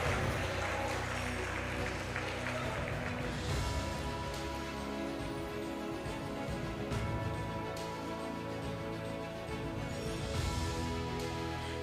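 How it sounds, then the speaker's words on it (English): An audience at a police academy school seminar applauds a winning group, a long, steady spell of clapping in a reverberant hall, with a low hum and some background sound running beneath it. "let's give a huge congratulations, a big applause to group Traffic Police"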